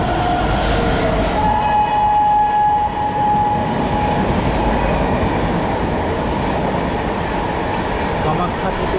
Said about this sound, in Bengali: আর এবারে কিন্তু ঢুকবে আমাদের ব্রহ্মপুত্র মেল।